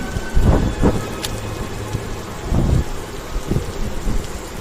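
Rain and thunder in the Roblox video game: a steady wash of rain with several deep, rumbling thunder bursts rolling in close and fairly loud, no talk.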